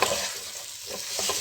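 Marinated chicken pieces frying with masala in a kadhai, a loud close hiss and crackle with stirring scrapes throughout.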